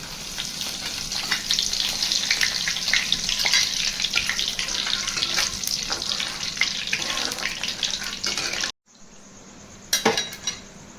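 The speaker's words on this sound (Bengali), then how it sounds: "এবার আমি 3টে এলাচ আর একটু জিরা ফোড়ন দিয়ে দেব" Cardamom pods and cumin seeds tempering in hot oil for a spiced liver dish, giving a loud, steady crackling sizzle that cuts out abruptly near the end, then returns more quietly with a brief burst of clatter.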